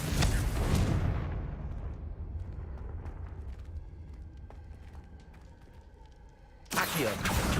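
A Confringo fire spell in Hogwarts Legacy bursts with a loud, booming explosion that rumbles and slowly fades over several seconds, then another heavy blast erupts near the end.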